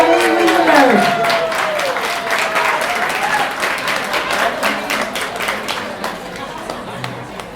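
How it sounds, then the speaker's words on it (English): Warm round of applause for Mr. Long Beach, Harvey Weisenberg, at a Women in the Arts awards event, crowd clapping with cheers and whistles that gradually taper off, voices mixed in. "can we get a nice warm round of applause for Mr. Long Beach, Harvey Weisenberg"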